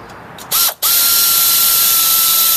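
Power ratchet removing axle retainer bolts on a Toyota Tacoma rear end housing, a brief whir, a short pause, then a loud sustained whine close by.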